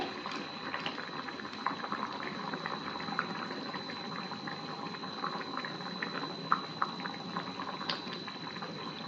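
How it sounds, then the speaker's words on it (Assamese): Thick gravy bubbles and blurps steadily in a pan, a constant close simmering with small pops throughout. "যিহেতু গ্ৰেভিটো উতলিছে"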